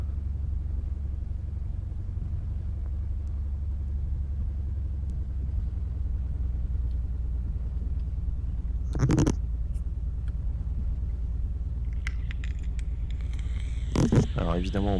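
A simulated Beechcraft Bonanza taxis in the Prepar3D flight simulator, its engine a constant low, heavy rumble droning throughout, with a couple of brief sharper bursts of speech-like sound near the end.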